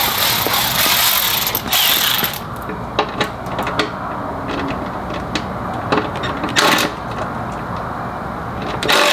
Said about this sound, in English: I got my Milwaukee ratchet, and they're all Torx screws, so they take a T25.